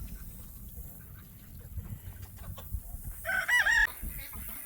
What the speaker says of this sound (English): okay guys, check out these chickens.